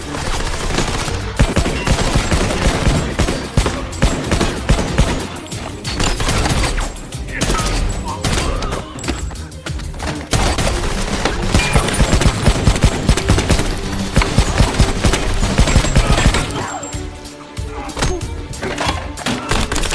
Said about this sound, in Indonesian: Dan ya, terbukti para anak buah Winston mati satu persatu karena senjata mereka tidak dapat menembus baju anti peluru tentara Hack Table ini